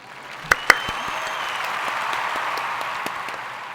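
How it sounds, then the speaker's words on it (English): Applause from a late-night comedy show audience, a steady wash of many hands clapping with a couple of sharp louder claps near the start, holding level throughout with no talk. "Insert applause here."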